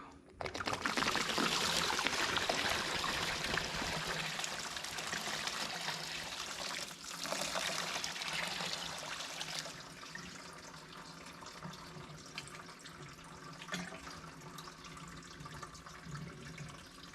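Liquid pours out of a tank in a steady rushing splash, easing into softer trickling and sloshing as the flow tapers, fairly quiet and close.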